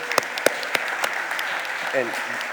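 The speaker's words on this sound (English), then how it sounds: "Let's give them a round of applause, please." Scattered clapping from an audience at a Philadelphia City Council meeting, with a few sharp nearby claps over a soft steady patter and a brief voice near the end.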